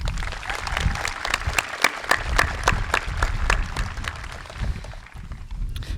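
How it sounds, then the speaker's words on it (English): Applause from an audience at a high school graduation ceremony, a mix of individual sharp claps over a broad crowd wash, moderately loud and steady, tapering slightly near the end. "Let's give Mr. Imbush a round of applause."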